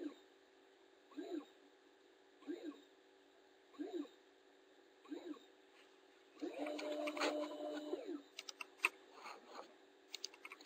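A linear actuator indexes in 5 mm steps, giving four evenly spaced short whirring pulses. A longer, busier stretch of motor whine and clicking follows, then a few faint ticks, all fairly quiet.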